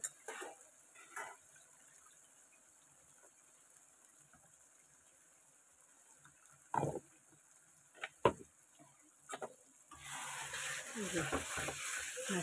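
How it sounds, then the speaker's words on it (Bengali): Spice paste with garlic, cumin and garam masala is stir-fried in a pan, heard as a faint sizzle broken by a few sharp spoon scrapes and knocks, then a louder hissing burst near the end. "এগুলো দিয়ে ভালো মতো মশলাটাকে কষাতে হবে।"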